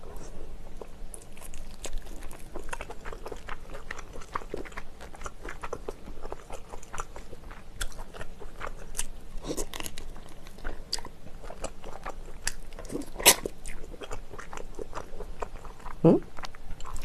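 Steady, close chewing and crunching of spicy chicken with kimchi taken in big mouthfuls, wet bites repeating through the whole stretch with a couple of sharper crunches near the end, at a mukbang meal.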